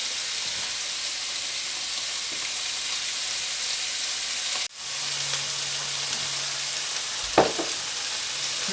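Bacon and capsicums frying in a small pan give a steady, even sizzle that runs close and alone throughout, with a short dip midway and a faint clink near the end.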